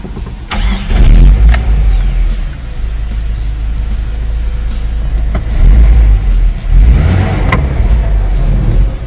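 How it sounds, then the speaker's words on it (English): A 1985 Dodge Ram 50 pickup with a Mitsubishi 2.6-liter four-cylinder, eight-valve engine runs close by, a loud, continuous low rumble with a few brief swells as the revs rise and fall. "Let's listen to how the engine works."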